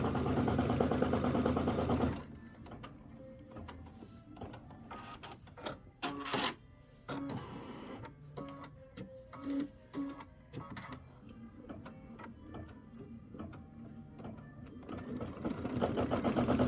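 A computerized quilting machine stitches the border of a Halloween pumpkins-and-potions quilt, its rapid needle chatter steady and close, with brief pauses and uneven bursts of clicking between runs and a louder hum at the start and end.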